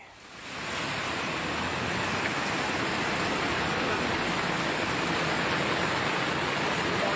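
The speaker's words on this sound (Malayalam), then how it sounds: "പാലത്തിലൂടെ വെള്ളം കര കവിഞ്ഞൊഴുകുകയാണ്" Floodwater from heavy Kerala rain rushes over a bridge at Alanallur, Mannarkkad, a powerful, continuous roar without letup, swelling in the first second and then holding at a loud, dense level.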